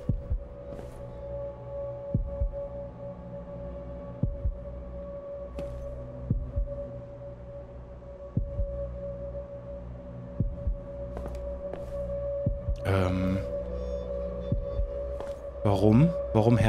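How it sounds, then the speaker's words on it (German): Slow, deep heartbeat thumps pulse at regular intervals in the video game Observer, under a steady droning hum, with brief louder bursts of game noise toward the end. "Warum Herzschlag?"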